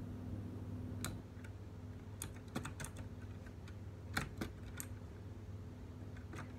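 Someone types on a computer keyboard during a Minecraft session, making quiet, irregular bursts of key clicks over a low background hum.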